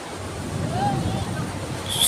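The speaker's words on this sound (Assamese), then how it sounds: "ডাঙৰ ঢৌ আহিছে।" Ocean surf rolls onto Mumbai's Juhu Beach in a low, rushing roar mixed with wind, with faint voices in the background.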